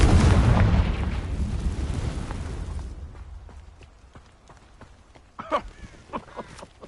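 A Confringo spell blast in the Hogwarts video game: a loud, heavy explosive roar opens and slowly fades over several seconds, followed by scattered sharp crackles and smaller pops.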